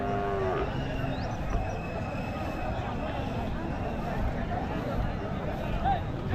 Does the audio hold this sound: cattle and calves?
yes